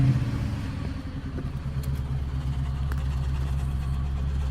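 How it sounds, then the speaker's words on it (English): A 1999 Mercury Grand Marquis engine running during service, a steady deep rumble that swells slightly as it is revved a little, close by and fairly loud, with a faint voice now and then. "why don't you rev it up for me a little bit and see if we get some smoke"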